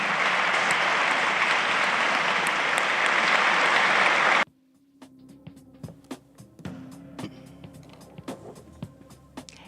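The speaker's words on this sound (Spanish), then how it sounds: "El aplauso, el homenaje, el saludo, la despedida de sus colegas en el recinto" Loud, dense applause fills a legislative chamber for several seconds, then cuts off abruptly, leaving quiet room noise with scattered knocks.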